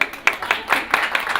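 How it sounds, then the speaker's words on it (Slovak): Audience applause for an assistant at a stand-up comedy show, a short burst of scattered, fairly loud hand claps in an uneven rhythm. "veľký potlesk."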